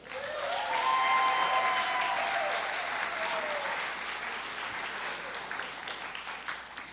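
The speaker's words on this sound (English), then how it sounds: "I want another round of applause." A crowd at a F*ckup Night event bursts into applause, loud and dense at first with some whistles over the clapping, then slowly easing and fading over several seconds.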